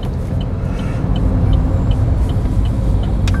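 Interior of a manual gasoline car pulling away and accelerating toward second gear, a loud low engine drone that rises in strength, with faint clicks and no talk.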